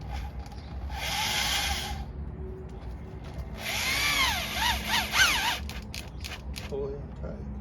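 A power drill drives a screw into roof trim in two bursts of whirring, the second longer with pitch sweeps as the screw tightens, faint talk in the background.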